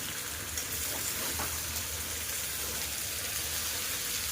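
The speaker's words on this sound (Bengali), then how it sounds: "এইভাবে আরও কিছু সময় কষিয়ে নেব" Country chicken meat sautéing in plenty of rendered fat and oil gives a steady, close sizzle and crackle, with faint stirring and no talk.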